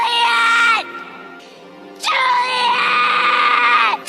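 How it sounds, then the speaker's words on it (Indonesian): A man screams and wails in grief, two long, strained, high-pitched cries separated by a short pause, loud and close, with no other sound around them. "Ia pun berteriak dan menangis akan kepergian Juliet."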